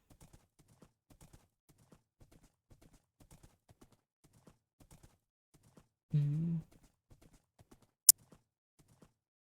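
Steady, faint clip-clop of horse hooves at a walking pace in Minecraft, with a short whinny-like burst midway and a sharp click near the end.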